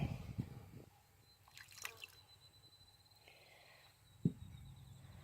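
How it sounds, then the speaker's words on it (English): Lime juice is poured into a pot of salsa being made for canning. Faint, sparse drips and small liquid splashes come and go in a quiet room, with a soft trickle in the middle. "let me get my lime juice in it"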